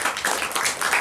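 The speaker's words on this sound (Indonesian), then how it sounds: "Tepuk tangan untuk kalian." Applause breaks out for university students at a community service program event in Kertarejasa, a dense patter of clapping that swells and dips in uneven bursts, fairly close, with no one talking over it.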